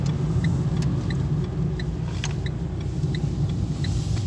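A car slows down during a driving lesson as the driver eases off the gas, presses the clutch and brakes, heard as a steady, close engine and road rumble with no talk.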